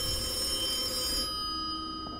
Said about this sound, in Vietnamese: cái smartphone mà nó rung kiểu như là điện thoại bàn vậy